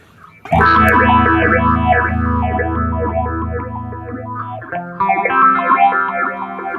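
An electric guitar runs through a Spaceman Explorer phaser pedal, sustained distorted chords swept by a rhythmic, pulsing phase effect, loud and close, with a chord change near the end and no voices.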